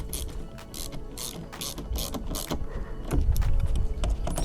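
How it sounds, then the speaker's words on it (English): Ratchet with a 27 mm socket retightening the steering wheel bolts on a Saturn Sky, Pontiac Solstice or Opel GT, clicking in bursts of rapid pawl strokes, close and loud, with no talking. "we get our 27 millimeter socket again. And start retightening these down"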